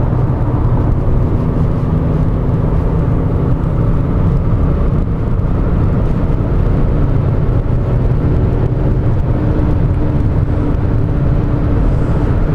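A 2013 Hyundai Genesis sedan accelerating to pass, heard from inside as a steady, low engine drone and road hum, with no talk.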